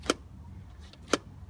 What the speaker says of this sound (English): make sure that you can hear the throttle make a clicking sound